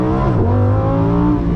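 Lamborghini Huracan Sterrato, the off-road Huracan with a widened track, accelerating hard in first gear from the driver's seat, its engine loud and close with a steadily rising rev note, no talk.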